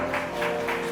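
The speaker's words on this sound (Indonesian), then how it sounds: "Ayo, berikan tepuk tangan." A short stretch of steady applause at an Indonesian wedding blessing ceremony, moderately loud with soft rhythmic swells of clapping.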